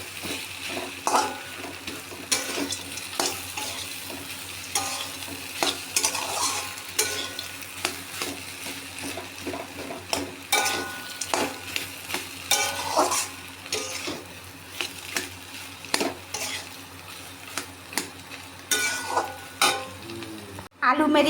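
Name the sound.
potatoes frying and being stirred in pan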